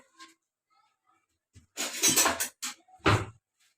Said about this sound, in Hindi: इनको भी निकाल के ब्लेंडर में रफली सा ब्लेंड कर लेंगे।